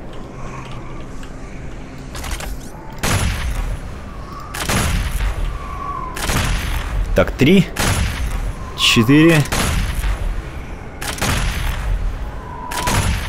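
Gunfire in the video game DOOM Eternal on nightmare difficulty, loud booming shots in a spaced series with mechanical whirs between, while someone talks over them.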